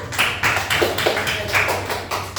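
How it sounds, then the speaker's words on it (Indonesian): A classroom group applauds a student, a close, lively burst of many hands clapping with an uneven rhythm that carries steadily to the end. "Tepuk tangan Bu"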